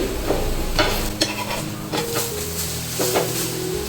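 Moong dal thalipeeth cooks in a pan, a steady sizzle broken by several sharp scraping and tapping strokes of a spatula, close and fairly loud.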